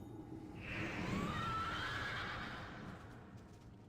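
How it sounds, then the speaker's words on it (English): Horse neighing with clip-clopping hooves in World of Warcraft, a single drawn-out whinny over faint steady hoofbeats, quiet and distant in the mix. "Get back on my horse."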